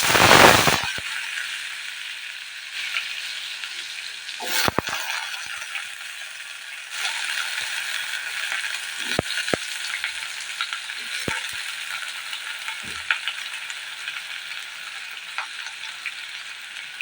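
Spices and ridge gourd pieces drop into hot oil with a loud initial burst of sizzling, then settle into a steady crackling fry with occasional sharp pops and stirring clatter.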